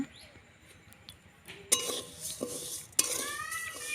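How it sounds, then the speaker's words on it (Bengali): Moong dal dry-roasting in a pan is stirred with a utensil, giving a few sharp scraping clicks against the metal and a soft rustle, fairly quiet and close, with no talking. "মুগ ডালটা হালকা আমি নেড়ে চেড়ে দিচ্ছি"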